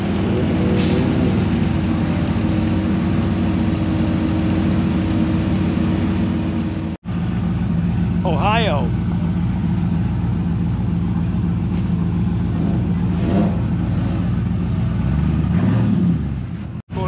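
A drag race car running on race gas rumbles close by at a drive-in during Sick Week, its engine droning loud and steady with a brief rev partway through.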